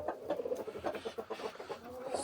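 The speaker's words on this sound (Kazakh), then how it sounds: "тауықтарымыз" Several chickens cluck repeatedly in short, uneven bursts close by on a farmyard, with no talk over them.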